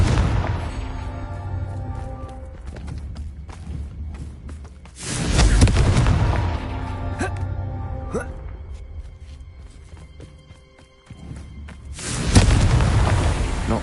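Confringo blasting spell explosions in the video game Hogwarts Legacy: two heavy booming blasts with deep rumbling tails, separated by quieter game ambience and musical tones, loud and close.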